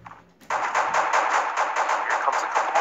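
Rapid automatic gunfire in Garena Free Fire during the Free Fire Sea-In Invitational 2019 esports match, loud and dense, with sustained back-to-back bursts and no talking.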